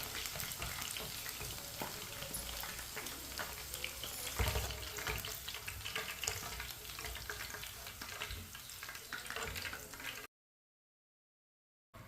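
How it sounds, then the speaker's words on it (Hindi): Chicken pieces fry in a pan with a steady, dense sizzle and crackle that stays loud and close for about ten seconds, then cuts off abruptly. "जो बाकी का बचा हुआ चिकन है वो भी इसी तरह फ्राई कर लेंगे।"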